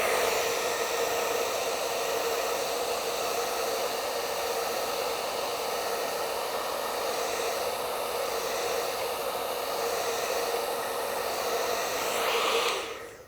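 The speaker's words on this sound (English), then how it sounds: "now we're going to simulate passing that blanket underneath the hot air dryers" A hot air dryer blows over a printing blanket carrying a very thin layer of ink, producing a loud, steady rushing hiss that runs unbroken for about twelve seconds before cutting off.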